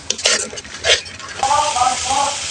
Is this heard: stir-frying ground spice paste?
yes